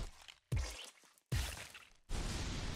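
Hollow Knight combat sound effects: three sharp impacts with whooshing bursts, separated by brief quiet gaps, the last one trailing into a sustained noisy rumble.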